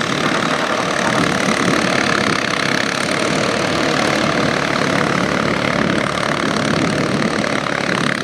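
A Ford 4600 tractor with a 3.3-litre diesel engine runs steadily and loudly up close, a continuous dense rumble with no talk over it.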